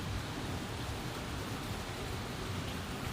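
Rain falls in a steady, dense hiss, even and unbroken with no distinct drops standing out, moderately loud and close.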